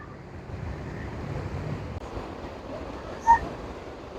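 Sea waves wash steadily beside a long China-built bridge over the sea near Malé, Maldives, a broad continuous surf rush with wind noise on the microphone and a brief faint bird call near the end.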